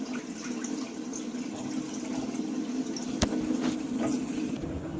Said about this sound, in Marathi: पाणी सगळं ओतून द्यायचं असं